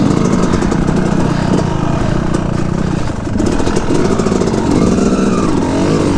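Two-stroke dirt bike engine lugging slowly up a muddy hill in the woods, a steady loud buzzing drone with small throttle swells and a brief dip midway, running continuously throughout.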